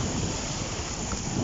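Steady roar of waves and wind along a beach, a dense continuous wash with wind buffeting the microphone and no voices.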